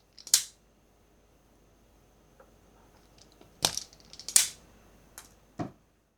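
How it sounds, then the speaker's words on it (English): Klein Tools wire strippers stripping the ends of speaker cable make a few sharp, close clicks and snaps spaced apart over near silence, with some faint rustling between them. "And then I stripped the ends. I absolutely love these Klein Tools strippers."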